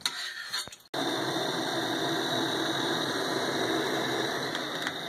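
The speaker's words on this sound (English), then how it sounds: "That's the sound of my water and my maple syrup boiling." A pot of water and maple syrup boils steadily with a continuous bubbling roar and a faint high whine, after a brief clatter at the start; no talking.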